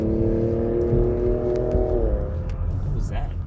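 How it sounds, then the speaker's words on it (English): A lifted pickup, a Ford Raptor, rumbles past at a car meet with a strong low engine drone and a rising then falling rev tone that fades over about two seconds, followed by lighter background noise. "Nah, that was a truck. Yeah. Lifted truck. Yeah, it was a Raptor."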